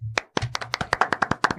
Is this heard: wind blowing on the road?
no